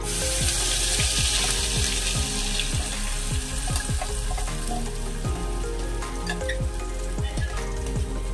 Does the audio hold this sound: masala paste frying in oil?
yes